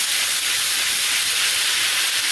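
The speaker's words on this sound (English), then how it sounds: "So just like 2 minutes of steaming" Steady, loud hiss of steam rising from sprouted moong beans cooking briefly in a pan with a little water, continuous throughout with no voices.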